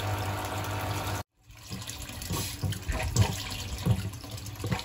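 Water running through the copper coil of a wood-fired hot tub heater: a steady rushing, faucet-like flow that cuts out abruptly for a moment, then resumes with bubbling, gurgling surges that grow slightly louder.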